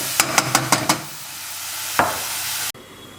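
Onions fry in oil under a quick burst of five metal taps and a later clank, with a soft sizzle behind them before the sound cuts to near quiet. Nobody speaks.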